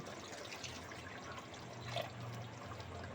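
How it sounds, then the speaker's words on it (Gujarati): Water being poured into Kashmiri chicken gravy in a cooking pan, a soft steady trickle and splash running throughout at low level, with no talking. "અને હવે આપણે થોડુંક પાણી એડ કરી દઈશું ગ્રેવી બનાવવા માટે."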